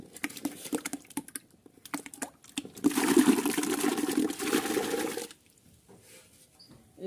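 Potatoes tipped into a container of water for fungicide treatment, a sustained close splashing and pouring patter after a few lighter knocks, then fading to quiet.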